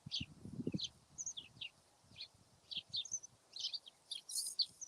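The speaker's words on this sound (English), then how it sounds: "Hedge full of sparrows." Sparrows chirp in a hedge beside a rural path with old wooden gate posts, giving repeated short high tweets in quick irregular bursts. The sound is faint and fairly close, with light rustling and a low thump near the start.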